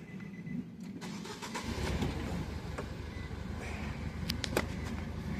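A Nissan Juke with a misfire, in for a spark plug change, cranks and starts close by, the engine catching after about a second and settling into an uneven, rumbling idle with a few faint clicks above it.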